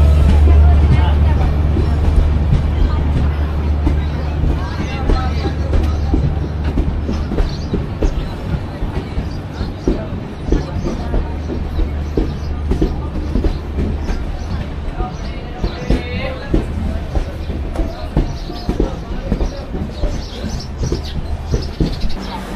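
A Diva passenger train runs along the rails with a continuous loud rumble and rhythmic clatter, voices and ambient noise mixed in throughout.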